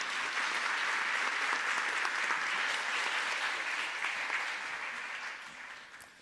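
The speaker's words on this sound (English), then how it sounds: "Give me a round of applause." Audience applause at a startup pitch event, a dense steady clapping from a crowd that holds loud for several seconds and then begins to fade toward the end.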